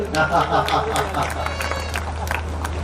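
Thunderous applause from the audience at a Hindi comedic poetry gathering, dense crowd clapping mixed with murmuring voices and a low steady hum underneath, fading slightly toward the end.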